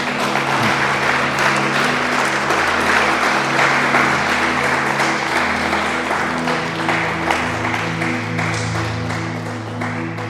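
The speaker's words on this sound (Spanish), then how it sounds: "Den una ofrenda de aplausos." A church congregation gives a sustained round of dense applause over a continuous musical backing, even and loud throughout and tapering slightly at the end.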